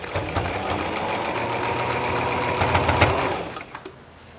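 A sewing machine stitching pieced quilt blocks, running steadily at close range in a fast mechanical hum with a rapid needle rhythm, then slowing and stopping near the end, with no talking.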